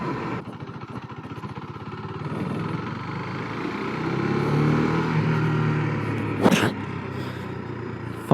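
Engine of a 2022 KTM 390 Duke on a test ride, a continuous close drone that rises steadily in pitch and loudness as the bike speeds up, with a short sharp burst near the end.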